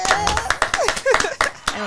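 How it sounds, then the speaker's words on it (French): Audience applause at a French entrepreneurship event: a brief burst of clapping mixed in with a person speaking. "Un tonnerre d'applaudissements déjà, s'il vous plaît."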